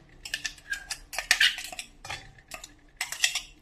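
Crushed pappadam pieces tipped onto a plate in a home kitchen, giving a run of dry crisp clattering and crackling bursts in uneven clusters, close and fairly quiet.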